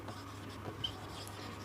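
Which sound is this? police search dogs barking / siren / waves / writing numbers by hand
writing numbers by hand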